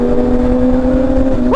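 A Ducati big bike's engine holds a loud, steady high idle close up, then snaps into a quick rising rev at the very end.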